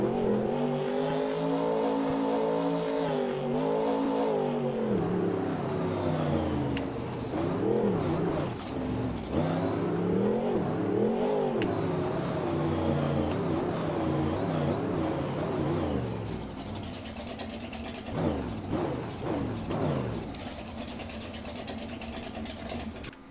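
A custom Thrasher Trophy Truck engine driving in Rigs of Rods, revving up and down through quick gear shifts with sweeping pitch, loud and close, easing lower toward the end.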